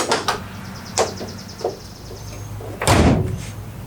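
A spring-loaded door on a PC build case is closed several times, sharp clicks and knocks spaced apart, with a louder clunk near the end, close up.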